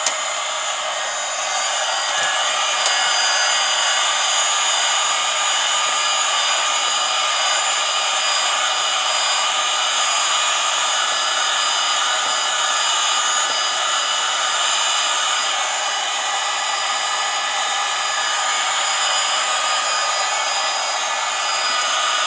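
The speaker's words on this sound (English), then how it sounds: "Let me hit this with the dryer again." A hair dryer blows continuously at close range over an alcohol ink and epoxy craft piece, a loud, steady whooshing roar with a high motor whine throughout.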